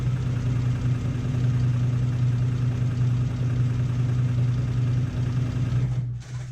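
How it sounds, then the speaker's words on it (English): A serger sews a swimsuit seam with a steady, fast mechanical hum, running continuously and close before cutting off near the end. "If you're sewing it with a serger like I am and cover stitch"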